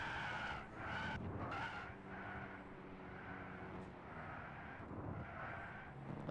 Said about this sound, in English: that car just started sliding because it doesn't like doing slaloms